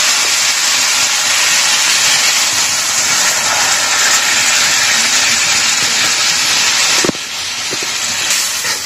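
Ground masala of ginger, garlic, chilli, onion, coriander and bay leaf hitting hot oil in a pan with tomatoes, a loud, constant sizzle that drops abruptly near the end, with no voices.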